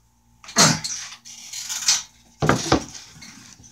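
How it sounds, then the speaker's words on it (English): A piece of wood is set down as a cutting board for a razor knife, giving two solid clunks followed by short scraping and shuffling as it is positioned, close and fairly loud. "I'm gonna get a piece of wood to lay down"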